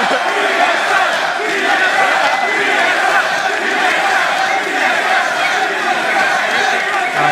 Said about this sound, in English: let's hear those TSM chants